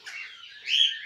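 Pet parrots give a brief bright chirp, then a second louder chirp close by, with nothing else audible.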